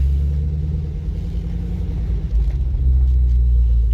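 A convertible car drives on the road, a loud low rumble of engine and tyres that wavers and briefly surges near the end, with no speech.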